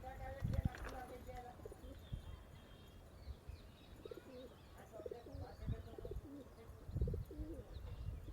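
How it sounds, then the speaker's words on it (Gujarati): Soft, low pigeon coos repeat at intervals, with faint flapping and rustling nearby and a quiet background. "બીજા બધા ધીમે ધીમે કરીને કબૂતર આવે છે"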